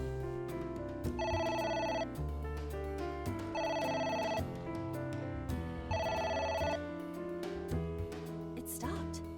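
A telephone rings in the video game AI: The Somnium Files, repeated bursts of electronic ringing layered over background game music, steady and clear with no voices.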